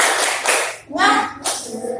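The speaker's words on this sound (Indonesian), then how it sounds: "Ayo kita ulang lagi sekali. Tepuk semangat." A primary-school class claps the rhythmic 'tepuk semangat' chant, sharp group claps in short bursts mixed with children's chanting voices, loud and close in a classroom.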